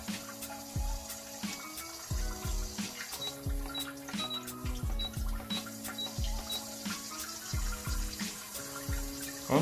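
A Lotus ATS-500 bidet sprays water on its turbo setting, a steady hissing rush with rhythmic pulsing clicks and faint electronic beeps, fairly quiet and close, with no talking.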